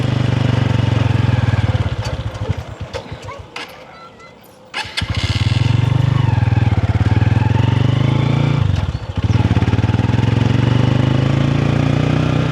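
A motorcycle engine runs steadily and loud, with a low rumble that dips briefly twice before resuming its even idle.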